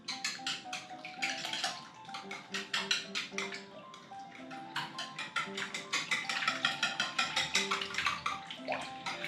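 A whisk beats vanilla, cinnamon and egg together in a bowl for bread pudding, giving a rapid, steady run of close, light clinking and splashing strokes with no talking.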